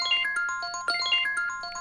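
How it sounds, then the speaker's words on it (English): A melodic phone ringtone plays in Garry's Mod, a bright sequence of chiming electronic notes in a repeating phrase, clear and fairly loud with no talking. "I'm just trying to find a good ringtone"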